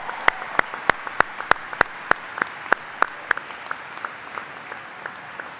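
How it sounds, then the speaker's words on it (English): A steady, evenly spaced run of sharp claps rings out at a university undergraduate commencement, honoring a newly named trustee. The claps come at a regular rhythm and fade gradually toward the end, heard alone without talk. "please join me in congratulating our newest trustee with a huge round of applause."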